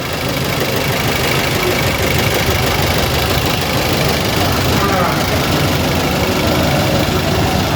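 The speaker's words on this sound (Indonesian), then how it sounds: "kita coba memeriksa dengan melihat getaran dari putaran mesin ataupun mesin saat hidup" Toyota Avanza engine idling with a DLI ignition fault and strong vibration, a steady, loud, broadband rumble with a rough, knocking texture running continuously and close throughout.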